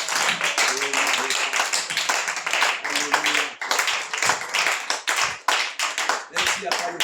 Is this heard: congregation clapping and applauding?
yes